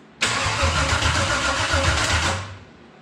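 A Chevy 283 small-block V8, swapped into a Sonoma after sitting for 20 years, cranks and catches with a sudden loud burst, then runs roughly with a low throbbing pulse for about two seconds before dying away.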